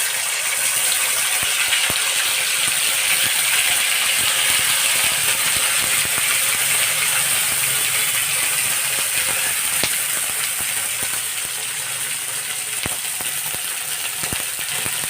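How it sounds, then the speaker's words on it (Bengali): Whole spices dropped into hot oil in a pan for a Bangladeshi chotpoti and dal, sizzling steadily and loudly with a dense crackling hiss that lasts throughout, with no voices. "তেলটা গরম হয়ে গিয়েছে, আমি মশলাগুলো দিয়ে দিচ্ছি।"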